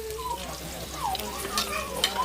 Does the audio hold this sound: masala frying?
yes